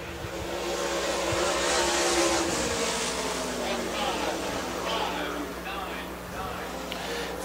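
A Super Late Model race car runs a qualifying lap at Dixie Speedway, its engine a steady, droning roar at a distance with slight rises and falls, while an announcer talks over it.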